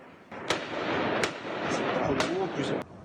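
Several sharp gunshot cracks ring out at irregular intervals over a noisy outdoor background, with a faint voice underneath.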